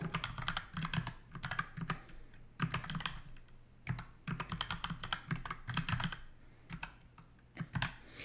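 Steady typing on a computer keyboard, quick irregular runs of key clicks with brief pauses between bursts, fairly close and without talk.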